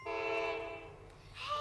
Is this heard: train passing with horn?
yes